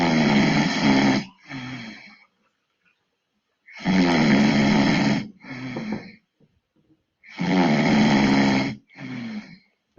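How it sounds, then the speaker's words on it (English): A person snoring loudly and close, three long rasping inhales each followed by a softer exhale, repeating at a slow steady rhythm with quiet gaps between. "Some people like a record of somebody snoring."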